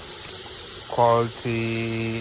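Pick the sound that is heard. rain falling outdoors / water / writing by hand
water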